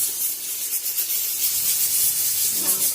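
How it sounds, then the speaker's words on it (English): Onions and chilies stirred in a pot for pilau give a steady, close scraping rustle over a constant sizzling hiss, with a slightly fuller stroke near the end. "give it a stir."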